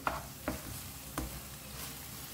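Softened tomatoes are stirred in a pan for a Goan clam dish, with a few scraping strokes of the spoon over a steady low sizzle.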